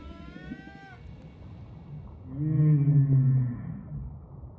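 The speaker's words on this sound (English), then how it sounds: "We know that humpback males sing during the breeding season." A male humpback whale sings during the breeding season: a rising, harmonic wail followed by a deep, loud moaning call, resonant and alone against a soft watery hiss.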